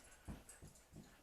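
Puppies give three faint, short yips or whimpers in quick succession, quiet and muffled against a soft background.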